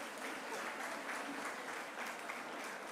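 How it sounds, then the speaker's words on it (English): An audience at a job fair event claps steadily and evenly for about three seconds, a dense patter of many hands with no voices rising above it. "Let's give them a big hand of applause"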